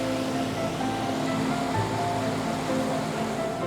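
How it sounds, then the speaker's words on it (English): Ocean surf washing steadily onto the shore as the tide comes in, a continuous close roar of breaking waves with no voices. "the tide is coming in. So I'm having to grab my gear because otherwise I'm going to get trashed by the wave"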